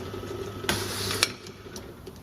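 A BenchMARK bottle labelling machine feeds a label with two short bursts of mechanical whirring and ratchet-like clicking over a quiet background hum, heard close up with no speech.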